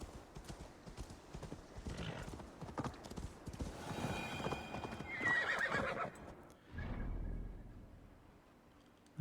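A horse's hooves clip-clopping in the video game Assassin's Creed Valhalla, a quick irregular run of hoofbeats that swells midway, with a horse whinny and a heavy thud near the end.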